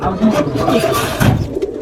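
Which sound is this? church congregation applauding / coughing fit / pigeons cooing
pigeons cooing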